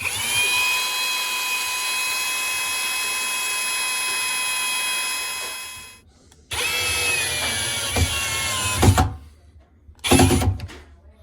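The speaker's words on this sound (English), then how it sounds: "countersink and then put a new bolt in there" A power drill countersinks a bolt hole in cracked wood on drawer hardware, a steady high whine for about six seconds, then shorter bursts of drilling with a pause between them.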